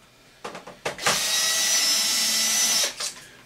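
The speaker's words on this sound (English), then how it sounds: "Now, you want to take a number 10 Torx. I just happen to have mine on a screw gun." A screw gun fitted with a number 10 Torx bit backs out long screws from an Xbox 360: a few short taps, then a sustained high electric whir lasting about two seconds before it stops.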